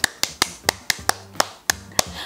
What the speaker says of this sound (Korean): 아, 박수를 쳐야 하는데.